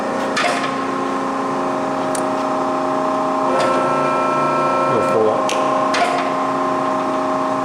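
An Eitel RP-40 hydraulic straightening press with a shaft straightening attachment runs with a steady layered mechanical hum and tonal whine, broken by a few sharp clanks. Someone talks nearby over it.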